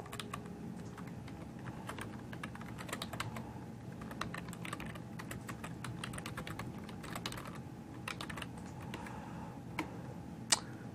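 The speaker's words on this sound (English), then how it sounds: "And then I'm going to type in my URL." Someone types on a computer keyboard, with soft, quiet clicks and taps coming in irregular bursts and short pauses, close and alone with no talking.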